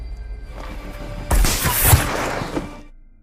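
A sniper rifle shot in a war film: a sudden loud blast with a long noisy crash and rumbling echo, after a quieter ambient stretch, then fading away.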